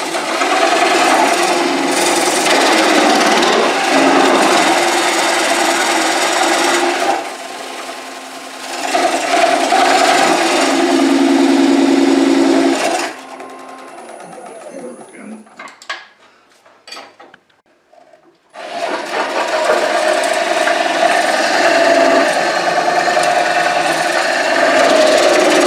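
Wooden bowl cored on a lathe with a OneWay coring system, a loud, continuous grinding scrape of the blade in the wood that drops to near silence midway and then resumes at full strength.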